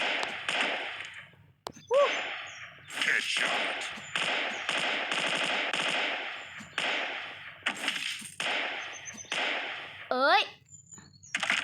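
Rapid bursts of gunfire from a small gun in a free shooting video game, loud and near, come in short volleys broken by pauses, with excited talk over the shots.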